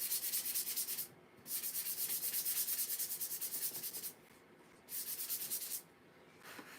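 Painted wooden coffee cup pieces being lightly sanded by hand, close scratchy rubbing in long strokes broken by short pauses, with no talk.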